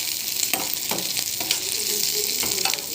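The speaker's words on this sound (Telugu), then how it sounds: "ఇదండి ఉల్లిగడ్డలు వేగుతున్నాయి కదా" Onions fry and sizzle steadily in a pan for fenugreek-tomato chutney, with a continuous loud hiss broken by several sharp stirring scrapes.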